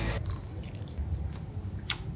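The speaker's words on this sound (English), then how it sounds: "This is betel leaf, yeah, pan ka patta. You can just eat it as it is" Someone chews a fresh betel leaf raw, making close, moist crunching bites that come irregularly in a few soft bursts, with no talk over them.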